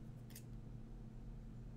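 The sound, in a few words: scissors cutting paper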